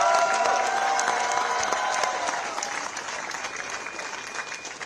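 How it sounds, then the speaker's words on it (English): Applause from an audience for volunteers at an India House gathering honouring Indian athletes, loud clapping at first that gradually thins and fades over a few seconds. "Let's give a big round of applause to all the volunteers."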